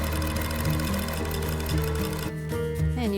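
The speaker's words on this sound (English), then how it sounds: "I use my walking foot to join them because it handles the quilted fabric better" Sewing machine fitted with a walking foot stitching quilted fabric scraps together, a steady fast mechanical whir with rhythmic needle clatter running throughout, close and fairly loud, slowing slightly near the end.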